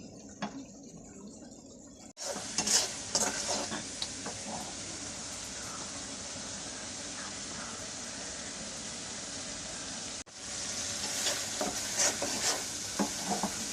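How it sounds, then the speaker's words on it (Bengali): A spice paste with green chillies is stir-fried in a pan, sending up a loud, continuous sizzle broken by bursts of scraping and stirring that cut out briefly twice. "মশলাটা ভালো করে কষানি"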